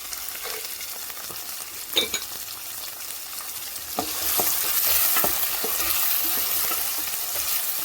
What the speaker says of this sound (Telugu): కొంచెం కాజు వేగనిద్దాము.